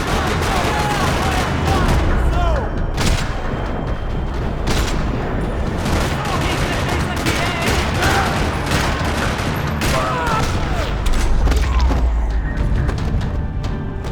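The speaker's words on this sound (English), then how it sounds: "Another parking lot rattling with gunfire." Dense gunfire fills a parking lot in Max Payne 3 with continuous rattling bursts and booms. The shooting goes on for the whole stretch, loud and close, and some voices are partly buried under it.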